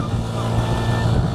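A motorcycle carrying three riders, two passengers and the driver, in Kuakata, makes a steady, close engine drone that holds even throughout the short stretch of riding.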